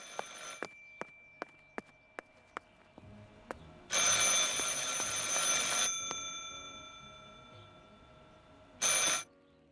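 A telephone rings in the video game Martha is Dead, a run of sharp, evenly spaced bell tones followed by a louder burst of ringing and a final short ring, heard alone without any talking.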